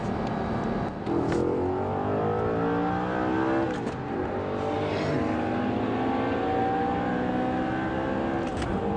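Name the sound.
Bugatti Veyron accelerating hard on track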